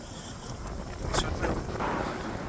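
Strong wind buffets the microphone in a continuous rushing roar, swelling slightly in the middle of the clip.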